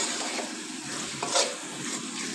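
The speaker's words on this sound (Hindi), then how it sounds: "इसको अच्छी तरह से मिक्स कर लेंगे।" A spoon stirs a chicken mixture for lasagna in a pan, making close, continuous scraping and rubbing strokes over a soft sizzle.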